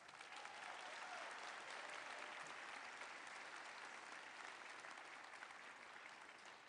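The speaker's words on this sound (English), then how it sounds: "So please give these folks a round of applause." Sustained audience applause at a graduation ceremony, a dense even wash of clapping that swells and holds for several seconds, fairly distant and without talk.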